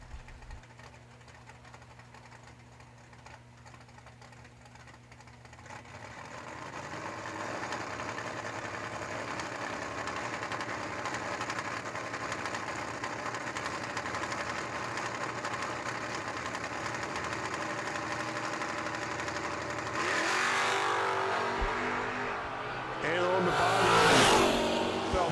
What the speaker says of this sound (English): Mr. Josh Phelps picks up the buy right now in his Camaro